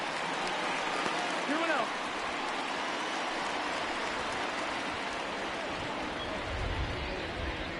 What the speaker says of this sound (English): And it continues to rain here